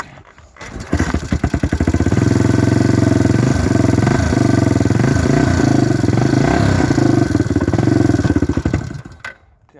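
A 1994 Yamaha Kodiak 400 ATV engine starts and runs steadily, loud and close, with a mid-pitched clattering idle that rises and falls with throttle blips before cutting off near the end.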